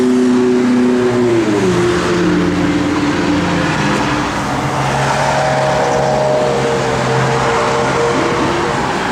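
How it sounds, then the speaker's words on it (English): A 1970 Dodge Charger 500 V8 with Flowmaster dual exhaust, loud and close, idling with a deep rumble and then revving, pitch climbing and easing back over several seconds with no talk. "It's got Flowmaster dual exhaust."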